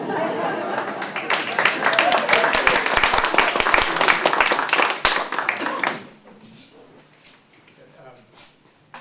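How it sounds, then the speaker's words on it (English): A room full of people at a San Francisco affordable housing hearing breaks into dense, sustained applause lasting several seconds, then cuts off abruptly to quiet room noise with faint murmuring. "Do we need to wait to applaud?"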